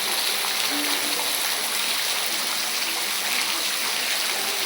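Water flows out from the rocks inside a cave in China, a steady broad rushing wash, fairly close and unbroken, with no speech heard.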